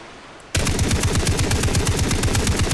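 Rapid, loud bursts of automatic gunfire in Far Cry 3 erupt after a brief quiet moment and keep firing steadily, sharp and close, with no talking.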